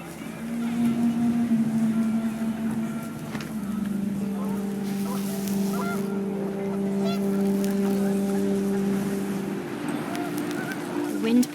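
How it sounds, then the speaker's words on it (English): Panicked geese honk in the video game What Remains of Edith Finch, a flurry of loud honks over wind and ambient game sound lasting several seconds, with a narrator's voice mixed in. "The wind picked up and panicked geese appeared and quickly went."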